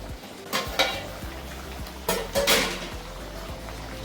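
Apollo fish curry being stirred in a pan, with a utensil scraping and clattering against the metal in a few distinct strokes over a soft, steady sizzle of oil.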